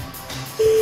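A telephone line dials out in a brief burst of tones, ending in a steady held tone, heard alone and fairly faint.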